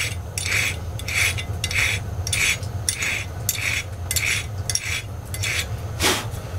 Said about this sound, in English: when you're filing, if you haven't done a lot of filing, you never drag back with pressure. Push only.